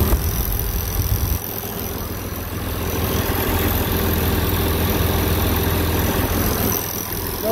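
An International Harvester IH 1066 tractor idles steadily nearby, a low, even engine rumble with a brief dip in level partway through.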